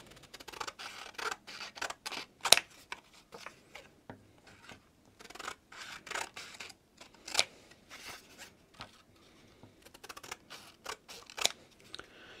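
Scissors snip through a greeting card being trimmed to size for a cross stitch project, giving quiet, close, irregular cutting and rustling sounds with short pauses between bursts.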